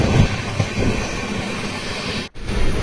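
A passenger train on the Bengaluru to Chalakudy route rumbles along the tracks with a loud steady roar and hiss, briefly dipping to near quiet before the rolling noise resumes.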